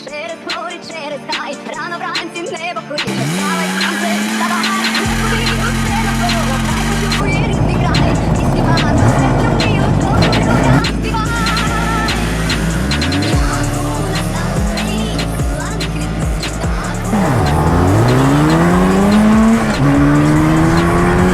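Loud racing motorcycle engines, an IZh Jupiter 5 against a Jawa, roar and rev continuously, shifting pitch as they accelerate and pass, with tires squealing at moments.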